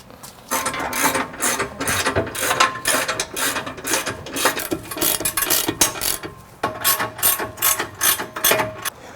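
A hand ratchet tightens 21mm and 14mm bumper bolts on a Jeep, rapid clicking bursts in quick repeated strokes, loud and close, with short pauses between runs and no speech.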